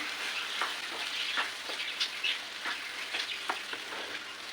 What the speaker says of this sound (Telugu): ఒక రెండు టమాటాలు కట్ చేసి పెట్టుకున్నాను అనమాట వీటిని వేసుకున్నాము ఇప్పుడు ఒకసారి మంచిగా కలుపుకున్నాము